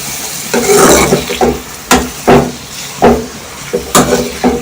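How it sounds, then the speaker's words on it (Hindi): Bitter gourd pieces browning in hot oil in a pan, a steady loud sizzle broken by several sharp stirring scrapes and clatters against the pan, with no voices. "ऑयल के अंदर अब हम करेलों को ब्राउन कर रहे हैं।"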